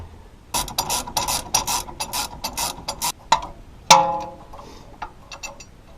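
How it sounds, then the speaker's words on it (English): Bolts come off a brake line bracket on a Toyota 4Runner with a ratchet, producing rapid close clicking bursts of pawl ticks, then a sharp metallic clank and a few lighter clicks, with no talking. "remove this bolt here and this bolt here to get this bracket off so that the brake line will be free"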